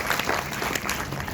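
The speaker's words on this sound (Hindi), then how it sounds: "सो एक बार तालियां सबके।" Brief, dense applause from a seated audience at an Ayurveda lifestyle talk, steady and close throughout.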